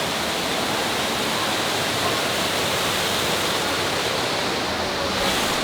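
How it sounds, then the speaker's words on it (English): Steady, dense roar of an indoor waterfall inside a Denver hotel crashing nearby, continuous and loud throughout with no other sounds standing out. "Freaking waterfall."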